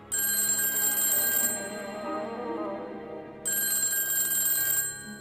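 A cartoon telephone ringing, two long bright electronic trills separated by a short gap, loud and close with no talking.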